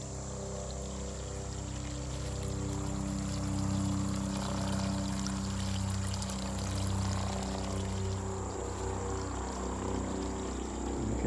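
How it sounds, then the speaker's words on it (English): Natural spring water flowing out of the ground beside a rock koi pond, a steady continuous pouring and trickling wash, close and fairly quiet, alone without talk. "And the water just comes out of the ground up there."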